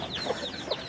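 Farmyard hen with newly hatched chicks, giving soft repeated clucks and murmurs up close over a steady background hiss.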